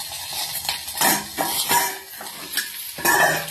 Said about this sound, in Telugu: ఇలా బాండీలలో వేసి 2 స్పూన్స్ ఆయిల్ వేసి లైట్గా వేపుకొని